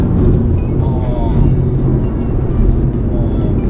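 A BMW F87 M2 Competition with its 410-horsepower engine and stock exhaust hums steadily from inside the car, a smooth loud drone under conversation.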